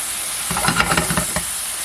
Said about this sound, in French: les bananes, en général, là, elles se caramélisent un peu